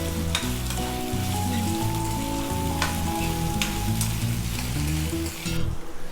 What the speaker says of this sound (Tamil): மாங்காயை சேர்த்து அஞ்சில் நல்லா வதக்கிக்கலாம்.